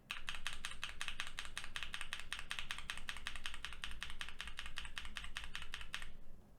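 Continuous rapid typing on Sunflower tactile switches in stock form, bright clacking keystrokes in a dense, even rhythm that ends just before the clip finishes.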